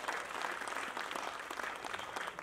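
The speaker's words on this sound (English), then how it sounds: "Can we give him another round of applause?" Audience applause at a film appreciation event for Anikulapo, a dense steady wash of many hands clapping throughout, fairly even in loudness and without voices over it.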